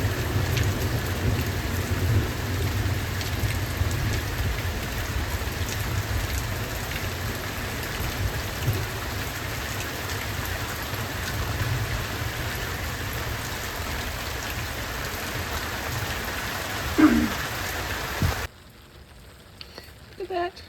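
Steady rain pours down on a garden planted with radishes, a dense continuous hiss across the whole clip that cuts off sharply near the end.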